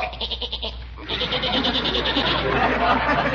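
A goat bleats in a rapid, wavering series of loud, close cries, with a person's voice heard around it in an old radio comedy.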